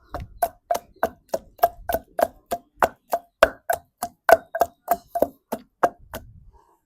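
Okra chutney is pounded in a stone mortar, village style: about twenty steady, evenly spaced thuds, close and loud, with a brief rustle after the last strike.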